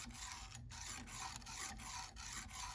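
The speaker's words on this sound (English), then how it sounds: "just kind of sand this down, clean up the contact a little bit" A worn electrical contact on a car's fuel gauge sending unit is sanded clean, giving a steady close scraping rasp in repeated strokes with brief pauses, no talk.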